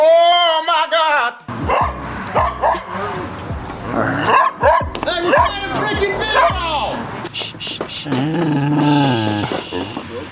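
A dog barks, yips and growls repeatedly near a group of men outdoors, with loud overlapping talk and shouting around the barks.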